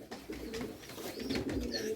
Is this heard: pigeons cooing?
yes